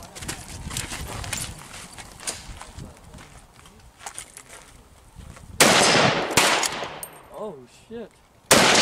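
A scout rifle in tactical mode firing in a zombie shooter game: a rapid run of sharp cracks under background clatter, then loud, bright bursts of gunfire near the end, with a voice exclaiming briefly.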